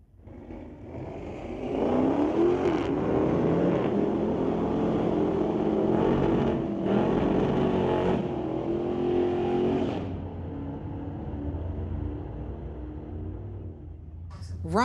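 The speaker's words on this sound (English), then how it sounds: "2019 Dodge Red Eye, going against Robert McLean in the Tower Lane 2018 Camaro" A 2019 Dodge Red Eye and a 2018 Camaro launch in a street-legal drag race, engines revving loudly then roaring away and fading, with an announcer talking over the track noise.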